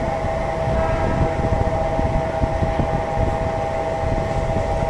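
Mumbai Harbour Line local train running toward Masjid station, heard from inside a first-class coach as a loud, continuous rumble and rattle with a steady tonal hum and no pauses.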